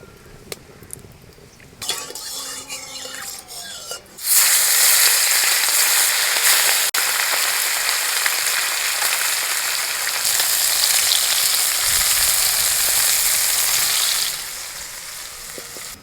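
Mustard oil sizzles loudly and steadily in a pan as a Bengali fish dish fries, after a few quieter kitchen clinks at the start.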